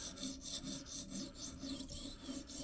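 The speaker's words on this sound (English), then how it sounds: "And we're just going to grind." A pocket knife blade is ground on a sharpening stone in steady back-and-forth rasping strokes, close and quiet, with no voices.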